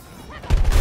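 A grenade explodes in the video game Battlefield 2042, a single loud, brief blast that bursts in suddenly after a quieter moment.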